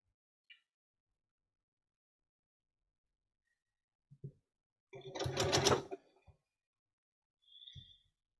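A sewing machine stitches light green fabric to dark green in one short burst of rapid mechanical whirring, with sparse small clicks and taps before and after in an otherwise quiet room.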